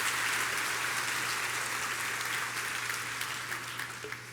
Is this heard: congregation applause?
yes